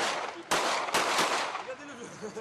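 Replica guns fired in a staged demonstration by a music group, giving two sharp loud bangs about half a second apart over a steady noisy background.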